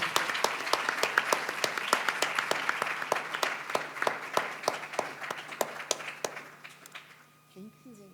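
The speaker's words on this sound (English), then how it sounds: "a round of applause." An audience claps after a lecture, dense and steady applause in a hall that gradually thins out and fades over several seconds, leaving a few scattered claps at the end.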